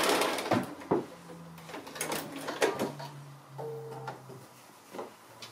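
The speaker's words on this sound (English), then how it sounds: "I'm just going to stitch back to where I started that stitching there." A sewing machine stitches back along a fabric hanging pocket in short bursts of quiet whirring and clicking, with soft handling knocks between runs, close and fairly faint.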